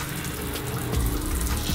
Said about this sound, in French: vous avez un robinet qui se transforme en douche pour prendre une petite douche